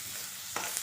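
Onions stirred with turmeric and salt in a frying pan, a soft hiss and sizzle with a brief scrape of the spoon near the end, close and faint, with no talking.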